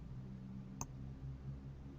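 A single short mouse click while adjusting a gradient in Photoshop, fairly faint against a low steady background hum, with no speech.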